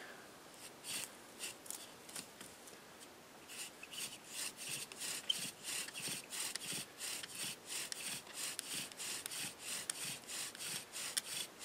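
Wooden bow drill spinning in a carved notch, heard as a rhythmic back-and-forth dry rasping friction with regular strokes that grow steadier and stronger, close and fairly quiet, no voices.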